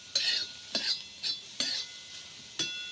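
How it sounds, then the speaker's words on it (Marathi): Bitter gourd stirred and fried in a pan on a wood-fired stove, with about six separate sharp spoon scrapes and clinks spaced through a faint background sizzle, close and clear, with no voices. "ते लाल होईपर्यंत परतोया आपण असा नंतर तेल ओतूया म्हणजे पटकन भाजला जाईल"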